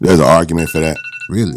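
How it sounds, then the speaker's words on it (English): A phone alarm rings in the background while someone talks loudly up close, a thin repeating tone running beneath and between his words. "That's my alarm going off right on time."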